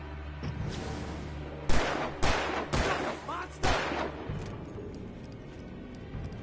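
Gunshots in the video game Alan Wake: four loud, sharp shots in a rough, evenly spaced rhythm over a quieter ambient backdrop, with a voice speaking just before them.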